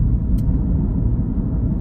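A BMW 335d Touring diesel rumbles steadily while driving, a close, low and continuous drone inside a hot black car with no other sounds on top.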